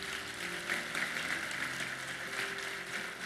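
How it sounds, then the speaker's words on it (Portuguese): A church congregation claps together in a steady, continuous wash of applause for about three seconds, fairly close and even in loudness, with no clear speech over it. "Você pode aplaudir o Senhor Jesus?"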